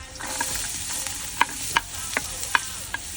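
Garlic and ginger sizzle in a pan for pinapaitang baka, a steady close frying hiss broken by a series of sharp metallic taps and scrapes from stirring, with no one talking.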